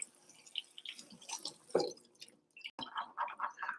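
Rinsed canned black beans dripping and trickling from a strainer into a kitchen sink, close wet drips and splashes in uneven bursts with a short pause, no one speaking.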